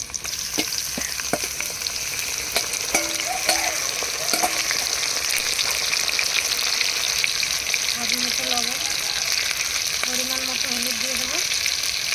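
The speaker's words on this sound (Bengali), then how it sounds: "চিংড়ি মাছগুলো ভেজে নেবো" Prawns frying in a pan give a continuous loud sizzle with occasional clicks and spoon scrapes, while a faint voice murmurs now and then in the background.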